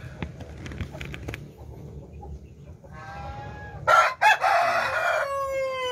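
An Asil rooster crows once toward the end, a loud harsh call rising over faint background farmyard clucks and rustling.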